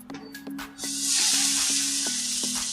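Chicken pieces hit a pan of melted butter on a gas stove and set off a loud, steady sizzle that swells and holds, with a few soft clinks beneath it.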